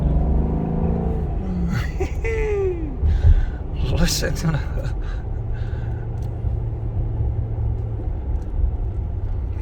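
A Maserati Quattroporte Sport GTS engine rumbles low and climbs in a short rev, sitting under someone talking close by.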